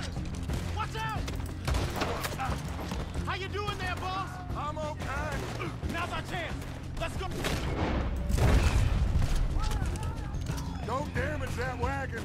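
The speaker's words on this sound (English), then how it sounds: "Someone shooting from a balcony." A gunfight in Red Dead Redemption 2, with someone shooting from a balcony in a frontier town: repeated gunshots crack over galloping hooves and shouting voices, building to a louder burst near the end.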